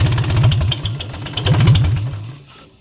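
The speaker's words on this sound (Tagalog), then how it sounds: "Sa loob ng injection pump ang naririnig natin na lumalagotok at wala sa loob ng makina." An Isuzu 4BC2 diesel engine idles with a rhythmic knocking from its injection pump, a rapid, even pulse of clattering beats heard close up that fades away near the end.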